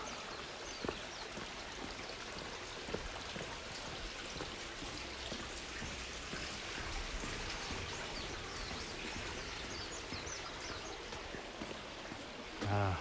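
Water runs steadily in a stream beneath a road pass in early-morning Tokyo, a continuous close splashing and trickling rush.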